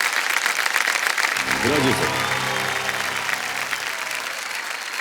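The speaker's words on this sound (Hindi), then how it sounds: "एक बार फिर तालियों के साथ आपका हम अभिनंदन करते हैं संजय जी इस सोच के बाद" A studio audience on KBC India gives sustained applause to a contestant. The dense clapping runs throughout, and a voice briefly speaks over it partway through.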